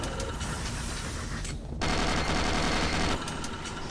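A Gatling gun fires in Doom 3, a dense, loud, continuous stream of rapid shots up close, with a short dip in the firing just before the middle and the barrage continuing afterward.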